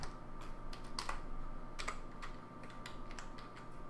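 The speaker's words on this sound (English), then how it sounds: "I am terrible at typing this morning" Typing on a computer keyboard during a Minecraft modpack session, with rapid irregular key clicks and a few sharper taps over a steady electronic hum and no speech.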